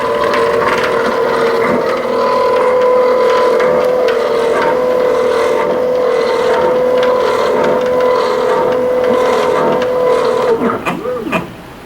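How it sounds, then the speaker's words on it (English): A foam shaping machine's cutting wire travelling to the end of the bed and returning home, producing a loud, steady mechanical hum with scraping texture that holds evenly before winding down with a brief wobble at the end. "the machine is going to continue to the end of the length of the bed. The wire will raise up and return home"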